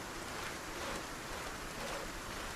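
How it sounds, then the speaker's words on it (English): Heavy rain in the video game Project Zomboid makes a steady, even hiss of downpour that fills the scene at a low, constant level, with no speech. "raining cats and dogs now, ain't it?"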